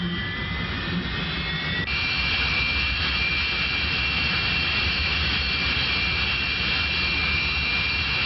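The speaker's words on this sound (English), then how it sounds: "the aeroplane is pulled out of the shelter and the engine is started during the tow" A Hawker Hunter jet of the Swiss Air Force starts its engine while being towed out of a mountain shelter during a scramble, a loud, steady turbine roar with a rising whine that steps up partway through.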